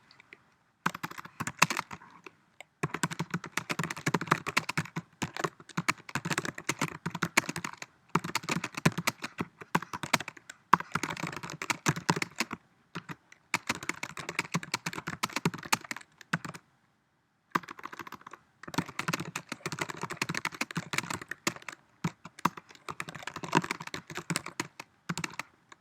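Steady typing on a computer keyboard, rapid close clicks in long bursts separated by brief pauses, with no voices.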